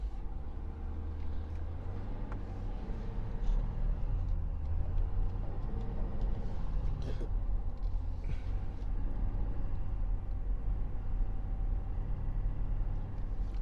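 Low steady engine rumble of a 6.7 H.O. diesel pickup fitted with a snow plow pulling away while towing heavy, a constant droning hum with faint road noise and no talking.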